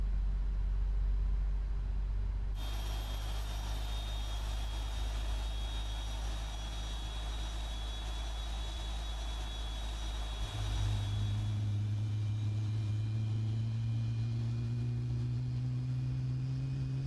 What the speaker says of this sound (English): we'll start throwing fuel into the engine